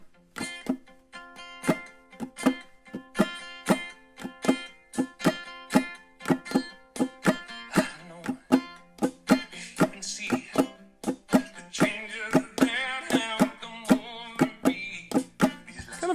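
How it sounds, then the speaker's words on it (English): A ukulele strums a steady rhythmic pattern along with a song, bright pitched chords ringing close and loud in a regular groove for the whole stretch, with busier accompanying sound joining in the later part. "If I play that along with this song,"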